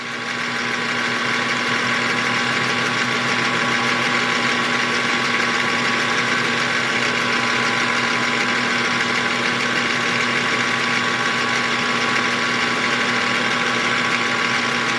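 A small hand-built model steam engine runs steadily and close by, giving off a continuous, even mechanical hum with a constant whine and no talking.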